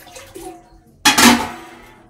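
A measuring jug of water is poured into a pot for making ragi mudde. A short, bright splashing gush starts abruptly and fades within about a second, after some faint kitchen clinks and soft sounds.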